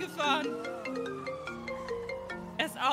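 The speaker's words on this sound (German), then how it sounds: "Mein Telefon klingelt." A mobile phone in GTA 5 rings with a tonal electronic ringtone melody of stepped notes, moderately loud and close, with brief bursts of game noise at the start and end.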